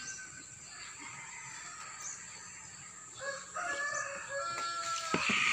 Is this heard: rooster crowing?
yes